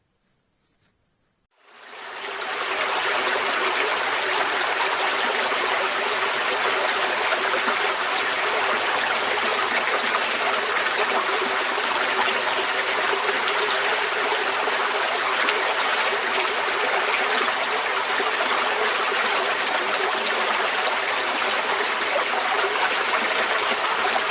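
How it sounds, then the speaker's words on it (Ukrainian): Trickling of the first spring streams, a steady, continuous babble of running water that starts after a brief silence and carries on evenly and fairly loud throughout, with no voices. "я хочу, щоб ви послухали, як дзюрчать перші весняні струмочки"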